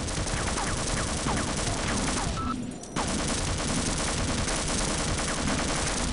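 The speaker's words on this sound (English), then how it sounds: "Who's shooting at me?" Sustained rapid gunfire in Half-Life, a dense close rattle of machine-gun bursts running almost continuously, broken by one brief dip near the middle before resuming, with no talking.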